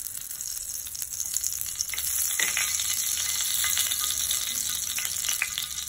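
Oil and ghee heating in a pan for an egg masala cheese omelette give off a steady, close sizzle with a bright crackling hiss that grows slightly louder partway through, with no voices.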